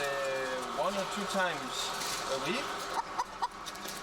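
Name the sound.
caged laying hens clucking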